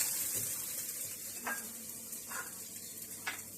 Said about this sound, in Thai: เราจะผัดกับกุ้งแล้วก็หมูนะฮะ